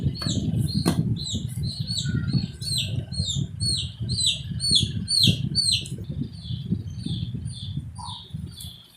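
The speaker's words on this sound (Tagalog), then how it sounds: "May maingay na sisiw na alaga ng anak ko." A pet chick chirps repeatedly and insistently, a string of bright high peeps close by, over a low indoor rumble and light background noise.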